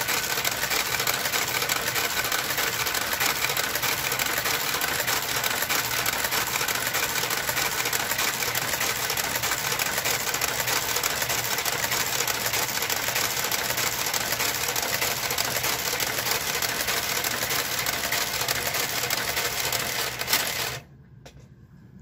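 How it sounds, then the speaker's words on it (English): A domestic knitting machine with a garter carriage works a row, giving a continuous, dense mechanical clatter and whir at steady volume, close by, that stops abruptly near the end, leaving near silence. "As soon as it's done this row, I will turn off the garter carriage"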